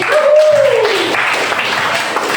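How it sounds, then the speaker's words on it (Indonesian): Students in a classroom break into brief, diffuse applause just after a voice trails off, a soft, steady patter of clapping hands lasting a couple of seconds. "Beri tepuk tangan dulu untuk teman-teman ini."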